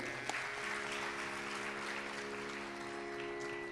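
An audience claps continuously in a hall during a Hindi Ramayana song program, a dense, steady wash of applause with sustained musical tones underneath.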